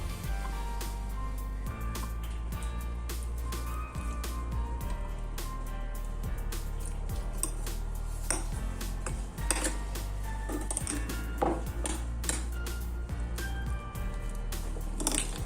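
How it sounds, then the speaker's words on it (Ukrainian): Grated horseradish with salt, sugar and vinegar is stirred in a deep bowl, giving steady wet squishing and repeated clicks and scrapes of a utensil against the bowl, close and fairly quiet, with no speech. "Все ретельно перемішуємо"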